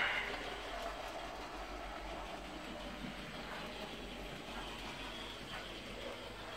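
An N gauge model train runs along a small layout, giving a faint continuous whirring rumble with soft rail clatter, steady throughout and without speech.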